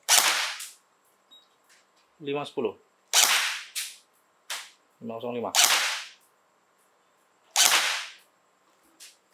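A converted JINGJI MAXIM Defense gel blaster AEG fires about five sharp, loud single shots, each a crisp crack with the short whir of the gearbox between them, and a voice speaks briefly between shots.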